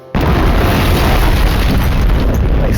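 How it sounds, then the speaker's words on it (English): An enormous C4 explosion inside a bunker bursts in abruptly, then a loud, sustained roaring rumble of blast and debris fills the space without fading. "The explosion was enormous."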